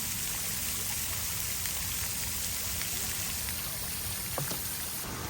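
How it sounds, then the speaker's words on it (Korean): A small waterfall splashes on a par-3 golf course in Ansan, giving a constant, dense rush of falling water that stays even and fairly loud throughout, with no voices. "폭포도 있어."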